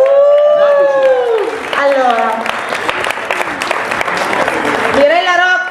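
Audience applause at a live stage event in Bardonecchia, a steady wash of clapping hands running the whole time beneath continuous talk from a presenter speaking over it.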